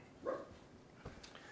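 A dog gives a single short bark, fairly faint and somewhat distant, in a quiet kitchen setting.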